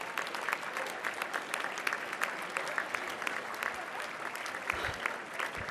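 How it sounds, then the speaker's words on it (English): Steady applause from a banquet audience at a women's bar association installation dinner honoring committee members, many hands clapping at moderate volume with crisp individual claps standing out, sustained without pause. "Please give them a big round of applause."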